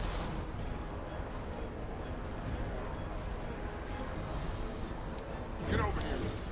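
Gunfire in the video game Mass Effect Legendary Edition rattles as a dense, continuous barrage of shots and impacts, with a sharper burst near the end and voices mixed in.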